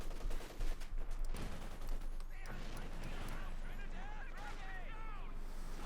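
MG-34 machine gun rattling in sustained bursts in the World War II strategy game Company of Heroes 2, mixed with other battle noise beneath continuous commentary.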